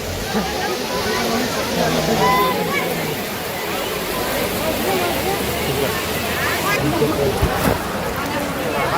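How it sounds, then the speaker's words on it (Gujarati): Heavy rain pours down over a village fair, a dense continuous hiss and wash that sounds near and loud, with people's voices talking underneath throughout. "જો વરસાદ થઈ ગયો"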